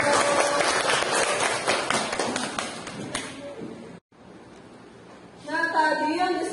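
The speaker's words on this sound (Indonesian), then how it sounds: "Tepuk tangan untuk" A school biology class claps for a few seconds, a dense patter of many hands that stops abruptly, followed by a teacher speaking.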